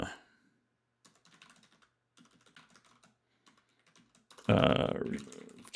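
Keystrokes on a computer keyboard as a command is typed to delete a folder, a quiet run of light clicks with pauses, ending in a louder burst of noise near the close.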